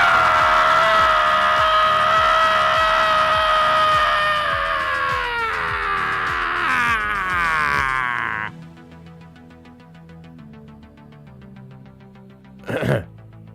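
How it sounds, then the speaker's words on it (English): Someone screams loudly and at length, the tone sliding gradually downward before cutting off abruptly, followed by quieter background noise and one brief sharp burst near the end. "Sound like somebody's screaming over there."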